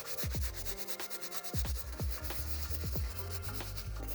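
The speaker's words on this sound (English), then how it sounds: "When using your soft bristle brush, we like to recommend just brushing in circular motions." A soft bristle brush scrubs a worn, dirty Reebok shoe in circular motions as it lathers up, making close, steady rubbing swishes with a rhythmic pulse of repeated strokes and no talking.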